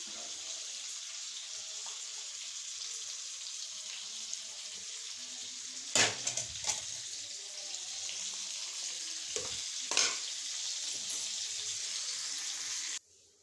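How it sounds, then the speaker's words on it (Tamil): Fish frying in hot oil for a Tamil home-cooked tomato coconut milk curry meal, a steady broad sizzle throughout with a couple of brief louder crackles and clatters, no talking. "மீன் பொரிச்சாச்சு."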